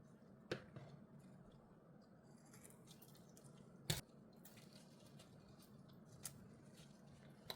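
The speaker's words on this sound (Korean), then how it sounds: "가위로 내장 부분 잘라 주겠습니다." Kitchen scissors snip through abalone innards in a few sharp, isolated clicks, quiet and close, against a faint background hum.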